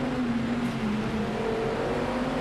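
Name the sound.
race car engine downshift, Project CARS 2 video game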